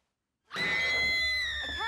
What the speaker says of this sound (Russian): Значит, этот крик был не настоящим.